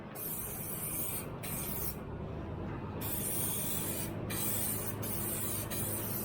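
Spray paint hisses steadily onto the front end of a 1978 V8 Nova hot rod, close and continuous, with a few brief pauses between passes.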